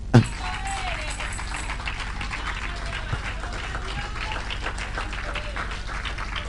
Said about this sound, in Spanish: Dale fuerte las palmas al Señor